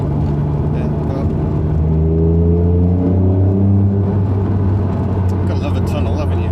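A very early Honda NSX with 161,000 kilometres on it drives on the road, its engine a steady droning rumble whose pitch climbs as it accelerates, heard from inside the car under a talking voice.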